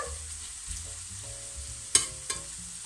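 Leeks confit in olive oil being spread across a frying pan give a steady low sizzle, with a couple of sharp scraping clicks from the utensil against the pan standing out near the end.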